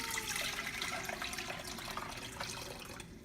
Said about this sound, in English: I'm going to go ahead and add my other 4 cups of water to make 8 cups